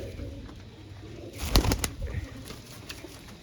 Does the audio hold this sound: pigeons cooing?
yes